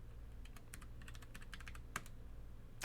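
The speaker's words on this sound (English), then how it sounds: "Oh my gosh, typing." Rapid keyboard typing at a Linux terminal, a quick run of crisp key clicks with one louder keystroke near the end, close and alone over a low steady hum.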